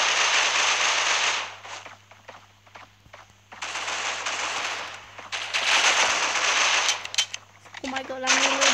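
Rapid automatic fire from an M4 rifle in the Critical Ops mobile shooter game comes in long sustained bursts separated by brief pauses, loud and close throughout.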